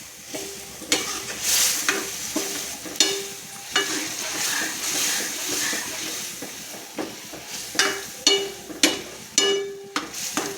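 Mung beans for a Gujarati mung sabzi go into a hot pan and are stirred, giving a continuous sizzle and hiss under scraping strokes of a spoon against the pan, with clinks that come in bunches, close and fairly loud.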